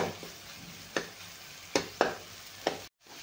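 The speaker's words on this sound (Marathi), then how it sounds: "अशी तेलात फक्त मस्त आतच आपण ही मिरची चांगली तळून घेणार आहे" Green chillies frying in hot oil give a soft continuous sizzle, punctuated by several sharp scraping clicks of a spoon stirring the pan, then a brief moment of silence near the end.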